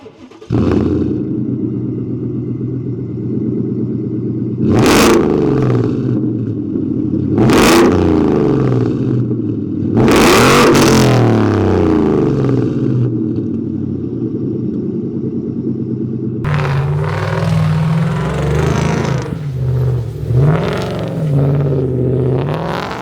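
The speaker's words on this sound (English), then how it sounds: "me doing kind of a donut, a drift with my exhaust so you guys can really hear how she barks" A pickup truck fitted with a MagnaFlow exhaust rumbles loudly while doing donuts, its engine barking through several sharp revs over a deep idle, then a long raspy pull with gravelly tire noise.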